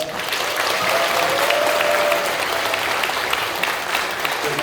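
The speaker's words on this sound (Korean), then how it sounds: "다시 한번 박수하겠습니다." Sustained applause from a church congregation at an Easter joint worship service, a dense steady wash of many hands clapping throughout, loud and close, with a faint voice or tone briefly audible beneath.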